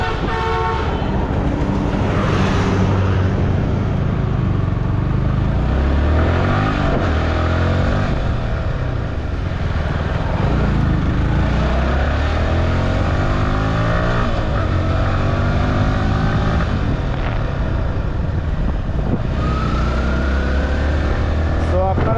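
Yamaha R15 V3 motorcycle engine accelerating and revving, then easing off as it brakes, a steady loud roar with rising and falling pitch sweeps and wind noise throughout, with a horn-like tone near the end.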